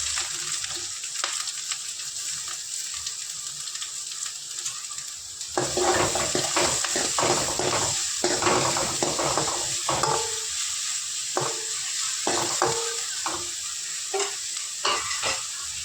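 Onion and chillies sizzling in hot oil in a pan for a leftover-roti snack, a steady loud fry with repeated scraping stir strokes and clinks of a spoon, with no one speaking.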